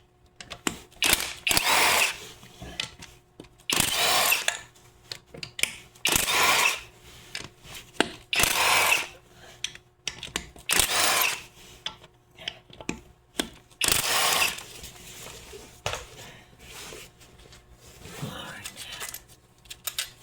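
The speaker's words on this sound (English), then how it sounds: "Alright, so now we'll get them bolts out of there." A ratchet wrench loosening bolts during a car transmission teardown, heard as bursts of rapid clicking and metallic working noise, close to the mic, with someone talking intermittently between the bursts.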